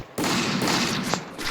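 A shotgun fires in the Free Fire battle-royale game: one loud, close blast that rolls on as a broad burst of noise, with a sharper crack near its end.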